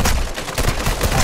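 Dense, continuous gunfire from a Warzone match fills the whole moment, with rapid overlapping shots that briefly dip and then surge back loud and close.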